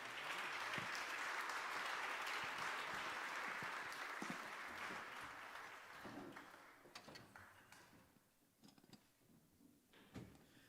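Applause from a jazz concert audience for a pianist at a Christmas jazz show at Cranbrook, a dense, sustained round that thins out after about six seconds into scattered claps and a few closing thumps.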